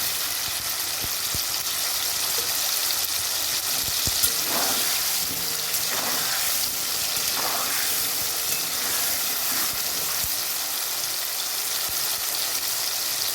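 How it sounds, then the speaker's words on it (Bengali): Cauliflower and potato pieces fry in oil in a pan with a steady close sizzle, joined now and then by soft scrapes and stirring sounds, and no talking. "ভালো করে লাল লাল করে ভেজে নেব।"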